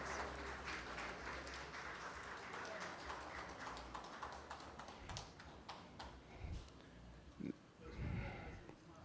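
Applause from an audience at a national aviation honours ceremony, a broad clapping texture that gradually thins, faint and somewhat distant, with scattered thumps and murmuring voices toward the end.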